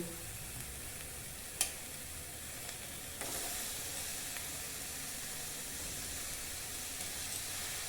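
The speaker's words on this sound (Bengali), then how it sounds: "টমেটো কুচিটা আমি একটু এভাবে ভেজে নেব।" Chopped tomato and onion fry in a pan for oil-free boiled chicken gravy, a steady close sizzle with a sharp clink early on and the hiss swelling slightly after a few seconds, no voices.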